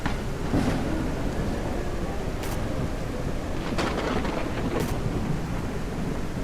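A loud thunderstorm in the zombie survival video game SurrounDead, with a steady roar of rain and wind broken by several sharp thunder cracks spread across the stretch.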